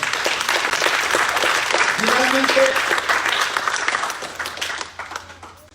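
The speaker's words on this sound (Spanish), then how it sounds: "Denle un aplauso fuerte al Señor." Church congregation applauding the Lord, a dense, loud wash of clapping that fills the clip and fades slightly toward the end, with a brief spoken word and some voices underneath.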